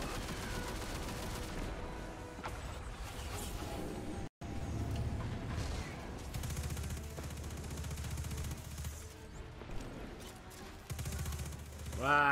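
Heavy gunfire from big guns in the video game Destiny 2, a loud, dense barrage of shots and blasts that runs almost without pause, with a brief cut partway through, over a bed of game music and effects.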